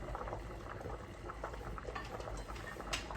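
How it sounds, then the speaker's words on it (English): Spaghetti in a pot of water bubbles at a steady boil, a dense continuous burble of popping bubbles, close and fairly quiet, with no talking. "Let it come to a boil. That spaghetti is cooking."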